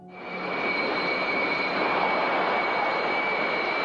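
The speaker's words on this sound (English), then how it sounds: "They just bolted a couple of turbojet engines to Buran, and powered by these, it could take off on a runway" The Buran space shuttle, fitted with a pair of turbojet engines, roars as it takes off from a runway like an ordinary jet; the whine and roar swell quickly, then hold loud and steady with a high tonal edge.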